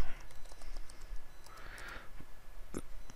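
Typing on a computer keyboard: a few close, soft, irregular key clicks with one sharper tap near the end, over a quiet room background.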